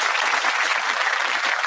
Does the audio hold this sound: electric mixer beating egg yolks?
no